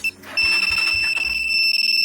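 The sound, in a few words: alarm of a Rusi Macho 150 motorcycle's 2-way alarm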